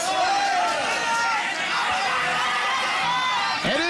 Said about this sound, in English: Every time Tramsek lands, this crowd goes absolutely bananas.